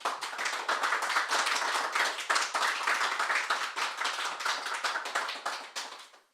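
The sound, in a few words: studio audience applause for the guest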